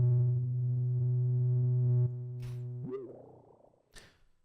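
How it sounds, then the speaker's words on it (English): Waves CR8 sampler playing a steady buzzy synthetic tone that cuts off after two seconds, followed by a gurgling pitch-bent warble and a couple of short glitchy clicks. "Another plugin I like to use is this like CR8 by Waves."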